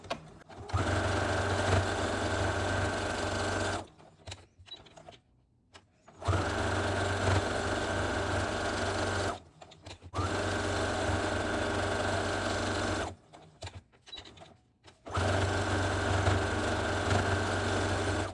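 A sewing machine hums steadily while straight-line quilting a small fabric coaster, in long loud runs of several seconds each, separated by short quiet pauses.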